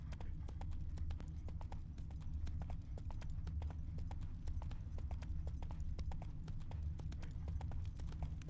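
Roach's hooves clip-clop in a steady trotting rhythm throughout, moderately loud over a low rumbling game ambience, with no voices, in The Witcher 3.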